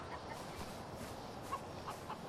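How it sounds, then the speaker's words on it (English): A chicken clucks faintly in the video game Far Cry 4, with a few soft, scattered clucks over a low, steady game ambience. "Hi, chicken."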